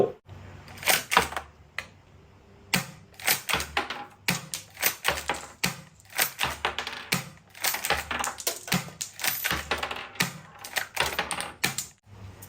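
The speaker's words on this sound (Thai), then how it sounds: "เวลามันเสียบเข้าไปอะ จังหวะการคัดปอกมาแล้ว" Clicking and clacking from a Zhuangsen toy M870 pump shotgun's shell-ejection mechanism, a dense run of sharp plastic snaps and rattles close by, coming in bursts with brief pauses between them.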